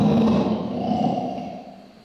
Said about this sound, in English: what I have come to call the assentive concession snarl